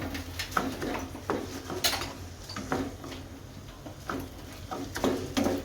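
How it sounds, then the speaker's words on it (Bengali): Rice being lightly stirred and fried in a pan over a medium flame makes soft, irregular scraping and clinking knocks from the utensil against the pan, close by and fairly quiet, with a faint sizzle underneath. "মিডিয়াম ফ্লেমে একটু ভেজে নেব।"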